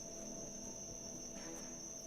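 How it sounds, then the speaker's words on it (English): Crickets chirp in a steady, continuous high-pitched drone heard from a lanai, with no other sounds over it. "Those sound like crickets to me."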